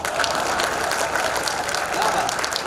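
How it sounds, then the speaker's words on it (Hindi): An audience at the Ballia Mahotsav 2024 stage event claps in steady, dense applause that holds at an even level throughout, with no pause. "आपकी तालियां कमजोर है साहब"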